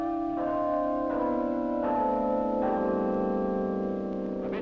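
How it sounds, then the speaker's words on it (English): A new peal of church bells cast by John Taylor & Co for a church in Yorkshire rings out in succession, each bell striking clearly with a long, shimmering hum that overlaps the next, loud and close with no talk. "this new peal of bells going to a church in Yorkshire"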